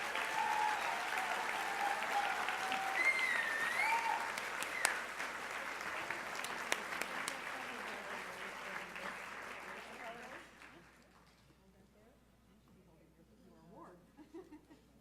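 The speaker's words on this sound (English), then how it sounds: "Please give me a warm round of applause for our first inductee today, Lois Cornell." A large audience at an awards ceremony for women achievers claps in loud, sustained applause for about ten seconds, then it fades to scattered claps, with a little laughter and voices at the end.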